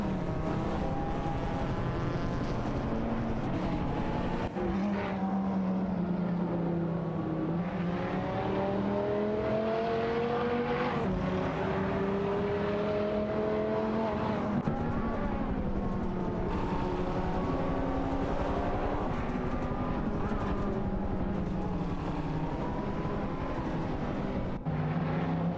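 Several race car engines in a racing video game drone and whine continuously throughout, pitches rising and falling as cars accelerate and jostle for position, loud and steady with no talk.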